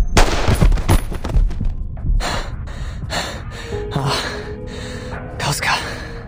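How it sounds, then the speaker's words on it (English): A gunshot in the video game Reverse: 1999 comes as sharp blasts early on, followed by quieter scattered impacts and a gasp. "Gunshot."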